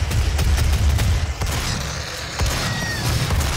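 Gunfire in the video game Doom, a busy mix of loud booming shots, mechanical clatter and rumble, with quick repeated bursts over a dense noisy background.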